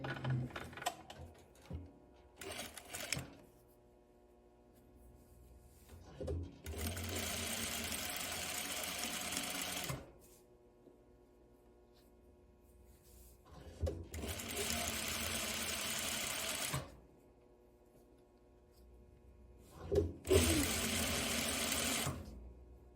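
A sewing machine stitches an armhole on a tie top cut on the bias, running in three steady bursts of whirring, separated by quieter pauses where someone talks.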